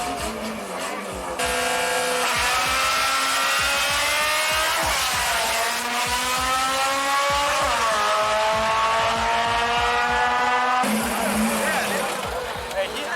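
Cars in a street race roar past with loud engine revs that climb through gear changes, engine tones sweeping up and down over several seconds, with people talking over the noise.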